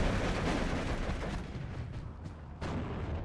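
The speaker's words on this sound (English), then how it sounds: "I might just continue the mortar fire here" Mortar fire in the WWII strategy game Steel Division 2, Soviet Iasi campaign: dense, booming explosive rumble throughout, with a sharper blast near the end.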